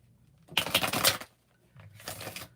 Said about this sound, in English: y'all saw me just shuffle this shit like 6 times